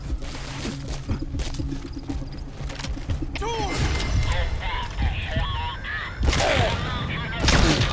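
Gunfire in the video game Metal Gear Solid 5, with repeated loud shots and impacts over rumbling game sound, while someone talks over the action.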